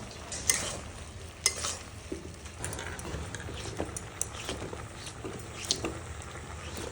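Ground cumin paste with mixed vegetables frying in a pan, a soft steady sizzle with occasional sharp clicks of a utensil stirring against the pan, fairly quiet and close, with no talking.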